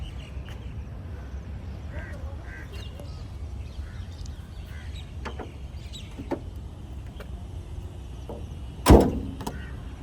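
A Toyota Innova 2.5V, a 2015 model, has its door shut once near the end, a single sharp thud standing out from the low hum and murmur of an outdoor used-car lot.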